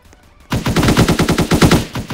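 Automatic rifle gunfire in the Roblox game Salvage, a loud sustained burst of rapid evenly spaced shots starting abruptly after a brief quiet lead-in, with no talking.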